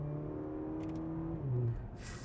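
A Porsche Macan T's small engine revs up steadily inside the car, then drops pitch sharply as it shifts gear and pulls on, a smooth whirring drone heard from the cabin.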